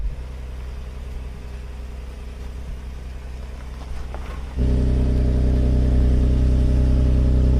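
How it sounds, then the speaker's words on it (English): A BMW car engine idles low while driving off-road, then the throttle is applied against the brakes and the engine jumps to a loud, steady, strained drone for the remaining seconds. "What I'm doing is applying throttle while also using the brakes."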